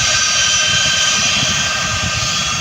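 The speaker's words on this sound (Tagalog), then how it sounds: "Eh, napakalaking aeroplano. Royal Australian Air no?" A very large Royal Australian Air Force airplane roars loudly and steadily at an airport, a continuous broad engine rumble with no breaks.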